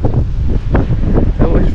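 Gusting coastal wind on Île de Ré thumps against the microphone in uneven bursts over the low churn of breaking waves, loud and close, no one talking.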